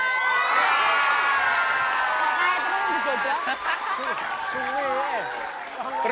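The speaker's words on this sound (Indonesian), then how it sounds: "Tepuk tangan dulu dong." Studio audience on an Indonesian TV comedy show claps, cheers and shouts loudly and continuously, with whoops and laughter, while a host talks over the noise.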